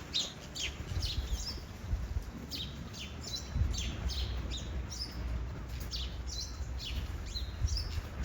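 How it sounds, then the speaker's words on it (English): Several birds chirp outdoors in short, high repeated calls scattered throughout, moderately near and fairly faint over a low rumbling background. "Or that we move on to some bird scenery."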